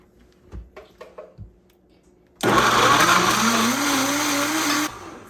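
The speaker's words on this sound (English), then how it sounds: "ladle it into our blender" A few soft knocks and clinks come first, then a blender roars to life blending soft beet soup, holding a loud steady whir with a rising motor pitch for about two and a half seconds before cutting off.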